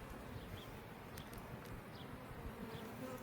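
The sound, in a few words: honey bees buzzing during hive inspection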